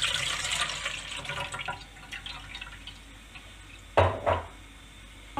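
Tomatoes are pressed through a kitchen sieve, giving soft wet dripping and squelching with a couple of louder sloshes near the end, close by and with no talk.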